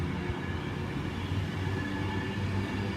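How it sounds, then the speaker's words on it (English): An Alstom Pendolino electric train at Wigan North Western station at night, rumbling steadily and close by with a dense, continuous rail roar and faint wheel squeal. "Alston Pendolino."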